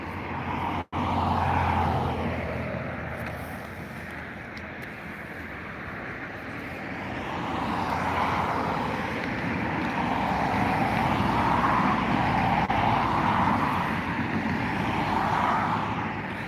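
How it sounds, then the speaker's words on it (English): An Emirates Boeing 777 taxis at Dublin Airport, its engines a steady close roar and whine that swells gradually over about sixteen seconds, heard alone. "Passing the Emirates 777 that I believe arrived yesterday"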